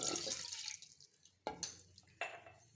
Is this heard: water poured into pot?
yes